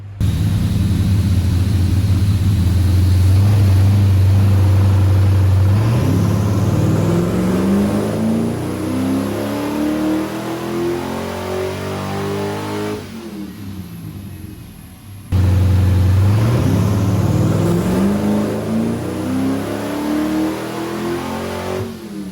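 A Mazda MX-5 Miata fitted with an LS1 V8 roars on a dyno, climbing from a deep idle rumble to a loud high rev over several seconds, dropping off, then starting a second pull, with no talking.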